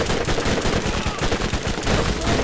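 Heavy automatic gunfire from a weapon in Borderlands rattles in a dense, continuous, loud burst of rapid shots.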